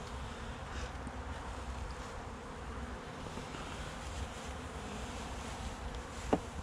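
A weak honeybee colony at its bare minimum of bees buzzes steadily in a bee garden, a low close hum with faint wind and a short sharp knock near the end.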